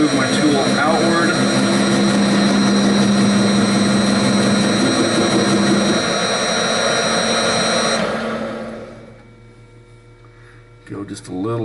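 A machine tool cuts a Duramax AC compressor clutch near its bearing race with a loud, steady whining hum that holds for about eight seconds, then winds down and fades into quiet with a few small clatters at the end.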